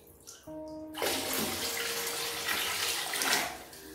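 Purified tap water runs steadily from a faucet into a basin, a close, full, continuous rush after a brief clatter and tonal hum at the start.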